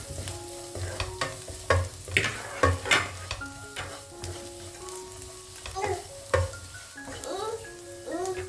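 Onion masala for potato bhaji curry fries and gets stirred in a pan, a steady sizzle broken by repeated scraping and clanking strokes of a spoon, with faint voices in the background.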